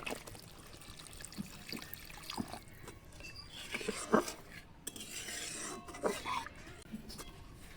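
Water is poured into simmering rohu fish curry gravy in a cooking pot, with a soft splashing trickle over a few seconds amid light clinks of utensils and pan clatter, close and moderately quiet, no talking.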